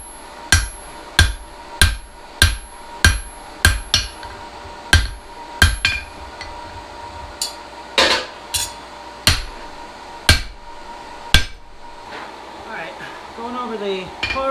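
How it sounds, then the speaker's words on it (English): Hammer blows ring out on an anvil while blacksmith bolt jaw tongs are forged, a loud, close run of sharp metallic strikes in an even rhythm that slows to scattered hits, with faint hiss and clatter at the end. "Going over the far end of the anvil here, and more or less doing a half face blow."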